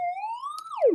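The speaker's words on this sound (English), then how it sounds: "Oh, no, triangle wave." A pure triangle-wave synth tone with a smooth rising pitch glide that holds, then swoops quickly downward at the end; clean, steady and fairly loud, no talk.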